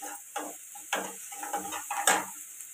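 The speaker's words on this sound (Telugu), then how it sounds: "అల్లం వెల్లుల్లి పేస్ట్ పచ్చివాసన పోయే వరకు వేపుకోవాలి" Ginger garlic paste fries in hot oil while a spoon stirs and scrapes through it, giving a run of short, close clattering bursts over a faint, steady sizzle.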